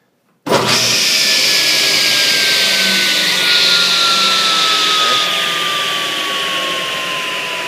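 A woodworking machine with a blade, adjusted to cutting height, starts up abruptly and runs as a loud steady whine with a slowly falling tone, alone without talk throughout.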